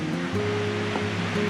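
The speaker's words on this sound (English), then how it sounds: "Really beautiful river." Hat Creek rushing past a dispersed riverside campsite, a steady close wash of flowing water with a faint tonal hum underneath and no voices.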